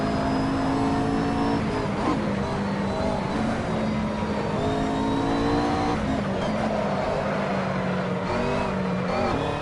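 A race car engine in Assetto Corsa, tuned with adjusted tyre pressures, holding a loud, steady high-revving whine and climbing through gears under hard acceleration for the whole stretch.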